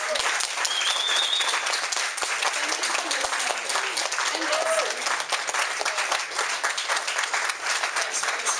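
Audience applause and cheering for a small band after a cover, steady sustained clapping from a crowd throughout, with voices mixed in.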